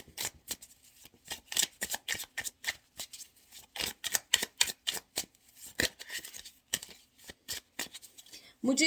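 Tarot cards are shuffled by hand for a pick-a-card reading, with rapid, crisp riffling and flicking bursts in an uneven rhythm, close and fairly quiet.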